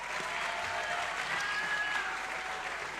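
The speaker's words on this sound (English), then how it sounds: "Can I please have a round of applause for all the accomplishments our student athletes have had" Sustained audience applause at a student-athlete awards ceremony, a dense steady clapping from a large crowd that stays even throughout, with no talking over it.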